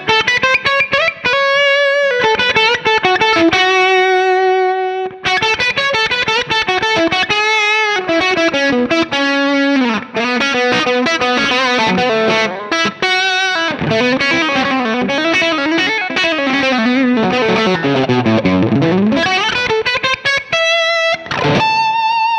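Electric guitar through a Line 6 Helix amp modeler with a distorted, effected tone, a continuous loud lead line with bends and a deep downward dive, soft pick attack and warm overall character.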